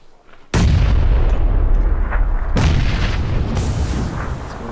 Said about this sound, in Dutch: We gaan een granaat voorbij.